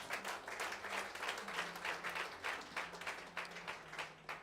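Applause from an audience at a testimony gathering, a steady wash of many hands clapping at moderate distance with no speech over it.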